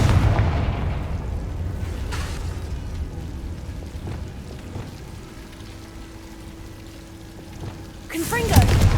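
Fire spell blasts from Hogwarts Legacy, rumbling booms at the start and a sharp, loud burst near the end, with a voice speaking over parts of it.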